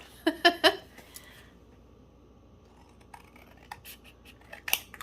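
Scissors cutting paper for a handmade card: a quick cluster of close crisp snips, then quieter scattered snips and rustles against a quiet room.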